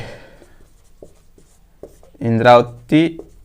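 Marker or chalk scratching on a board during an Indian geography lesson, with short strokes and taps across the first two seconds before a voice starts speaking.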